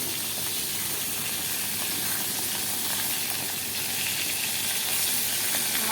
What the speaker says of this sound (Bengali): মাছগুলোকে ভাজা হয়ে যাচ্ছে ভোলা মাছ